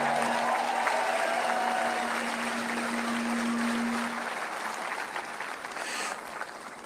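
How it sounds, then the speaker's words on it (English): Sustained crowd applause at a Trump political rally in Butler, Pennsylvania, a broad wash of clapping from a large outdoor audience that holds steady and then gradually tapers, with a faint tonal hum underneath. "Please give yourself a big round of applause."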